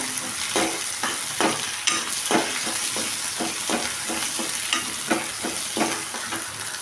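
Onions with ginger garlic paste sizzle in a pan for mushroom gravy, with a steady fry broken by regular stirring scrapes.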